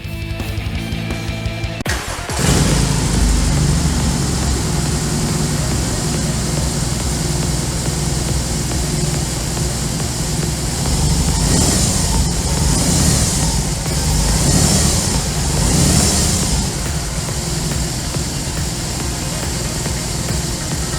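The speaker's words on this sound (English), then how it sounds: "Let me switch on the bike and crank the engine for you." After a brief mechanical clatter, a BMW R18 cruiser's 1800 cc boxer engine fires up and settles into a loud, throbbing idle, with occasional revs swelling close by.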